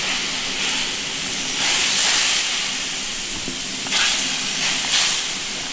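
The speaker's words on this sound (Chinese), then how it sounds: "鱼片下锅" Black-fish slices slide into boiling spicy bullfrog soup in an iron wok, giving a loud, continuous steamy hiss and bubbling that swells and eases in waves, with no talking.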